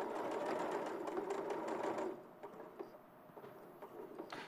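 A sewing machine stitches fleece fabric, running in a fast steady whir for about two seconds, then stopping, followed by quieter handling clicks and fabric sounds.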